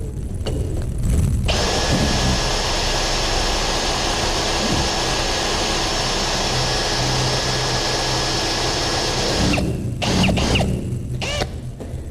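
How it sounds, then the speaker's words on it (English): A loud, steady motorized whine runs for several seconds as a power drill bores holes continuously, then cuts off with brief rustling at the end. "so I'm drilling these holes"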